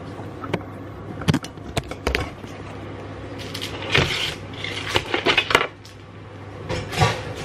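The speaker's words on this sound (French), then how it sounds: "Et je vais mettre mes chalotes à cuire." Shallots tipped into a pan to cook, with a scatter of clinks, knocks and rattles against cookware, some rubbing and scraping in between, close and fairly loud.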